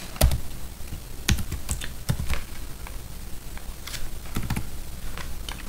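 Keys on a computer keyboard being typed in short irregular bursts of crisp clicks, close and fairly quiet, with brief pauses between the keystrokes and no talking.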